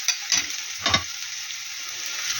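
Chopped onion sautéing in a frying pan, a steady close sizzle with a few scraping stirs of a utensil early on, no voices.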